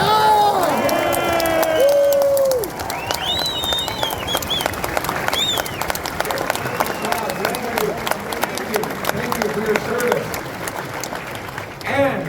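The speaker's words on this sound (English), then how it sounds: "Give them a round of applause." A crowd at a political rally in Fredericton, New Brunswick applauds and cheers, steady dense clapping with scattered whoops and shouts throughout, loud and close, easing slightly after the opening seconds.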